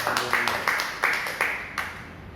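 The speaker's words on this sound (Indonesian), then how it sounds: "Berikan tepuk tangan buat kita." A church congregation claps in a sermon with a crowd of hands beating in a fairly regular pulse of about five bursts, loud and near in a reverberant hall, with no talk over it.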